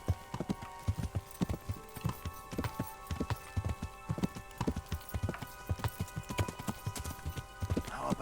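Horse hooves clip-clop in a steady trot through woodland in Kingdom Come: Deliverance, the repeated beats close and clear with some faint background ambience.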